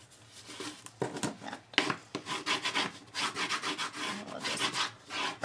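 Paper is burnished down by firm rubbing for paper crafting, a close, scratchy back-and-forth rasp in quick repeated strokes with no talking.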